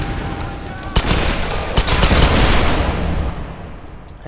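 Rapid bursts of gunfire from the Tomb Raider video game, several sharp shots over a dense, loud rumbling background, with a voice talking over the action.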